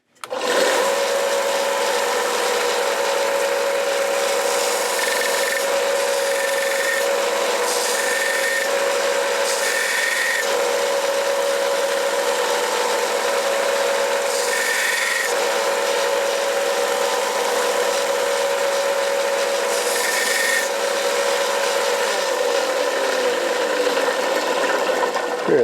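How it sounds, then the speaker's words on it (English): A small belt sander grinds a handmade silver locket, a steady whirring motor hum with a constant tone, punctuated by brief rasping surges as metal presses against the belt over a long stretch. "I'm going to use this little belt sander here"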